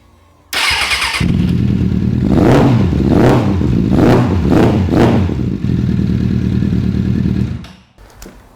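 A nearly 100-horsepower motorcycle engine starts up and idles loudly, then revs hard several times in quick bursts before settling and cutting off.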